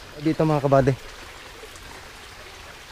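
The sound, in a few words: river stream flowing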